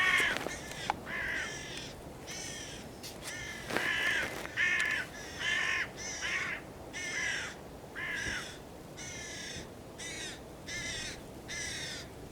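Hooded crows caw loudly and repeatedly in harsh bursts, with one bird joined by another landing among decoys during a field crow shoot, calls spaced in an irregular rhythm close by.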